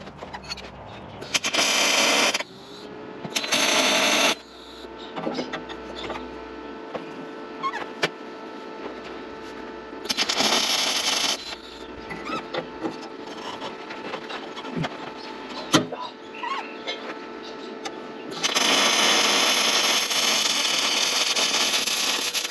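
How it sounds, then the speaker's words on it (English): Metal parts for a repair pin being welded together, heard as three separate bursts of steady, close broadband hiss and crackle, with quieter workshop noise in the gaps and no talking. "then we're going to weld it together"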